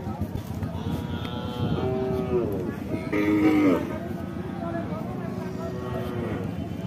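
A cow at a flood-hit Eid cattle market in Sylhet gives two long, loud moos close by, with market chatter and voices around it.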